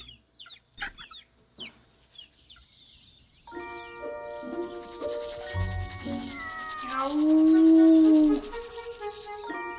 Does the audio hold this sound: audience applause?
no